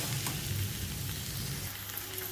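Spice paste for a Malvani-style dry clam curry sizzles softly in a pan, a faint, steady hiss with light crackles and no speech.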